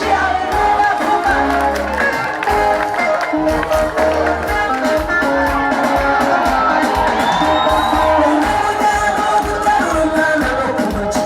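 A church congregation at a prayer service for Burundi claps and cheers, with whoops and shouts rising over a loud, continuous crowd din that never lets up.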